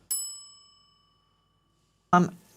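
A single dinghy bell is struck once, close and clear, and its bright tone rings out and slowly fades over about a second. A burst of gusty wind hits the microphone near the end.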